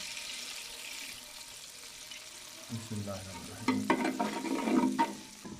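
Milk is poured into a pot of melting ghee for zarda syrup. A faint hiss comes first, then a near, rising pour, splash and sizzling bubble that build in the second half.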